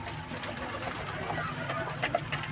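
Pet pigeons cooing softly at close range, low murmuring calls over a faint background hum, with a couple of brief sharper sounds near the end and no speech.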